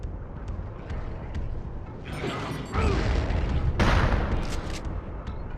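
Gunfire from weapons in the first-person shooter Turok 2, a few loud, rough blasts cutting in over a steady noisy background, with the bursts growing heavier toward the middle.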